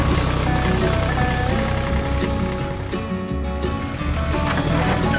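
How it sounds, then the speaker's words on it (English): Two tractors roar as they start off, their engines giving a loud, continuous rumble that stays steady and dense from start to finish. "Both machines, ready for action, started off with the roar of their engines."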